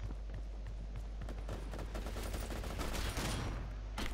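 Gunfire crackles in a DOOM multiplayer match, with a quick run of sharp shots building toward a dense burst near the end, fairly faint and with no talking.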